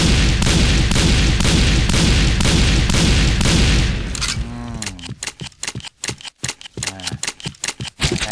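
Rapid shotgun blasts from an M1887 in the Point Blank shooter, a dense loud volley of shots for about four seconds, then sparser sharp reports with brief gaps and some ringing tails.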